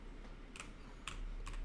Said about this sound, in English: I'm just spamming buttons on the keyboard